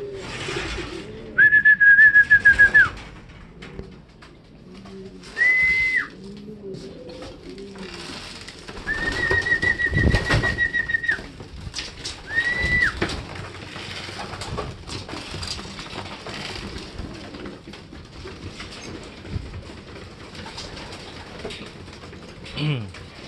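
Racing pigeons coo in low repeated bursts while being fed breeder mix, joined by several sharp sustained whistle blasts, with scattered handling noises and a voice at low level.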